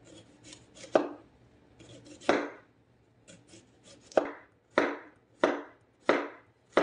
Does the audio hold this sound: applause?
no